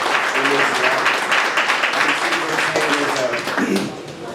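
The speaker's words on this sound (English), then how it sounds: "can we just give LULAC and Dr. Garcia a round of applause for everything that they do for this community?" Applause at a community chorizo menudo breakfast in Dallas, with steady clapping from the crowd and voices talking underneath throughout.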